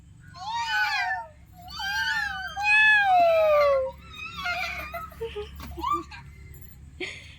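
A voice imitates a kitten, giving several drawn-out, wavering meows close up, the middle one the longest and loudest, followed by softer, shorter sounds and small noises.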